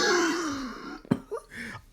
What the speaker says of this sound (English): I'm coughing now.